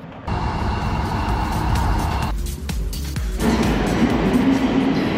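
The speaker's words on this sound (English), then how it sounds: "let's wait for this train to depart" A train rumbles steadily as it pulls away, with a low mechanical drone and a brief dip in noise before rising again, no talking.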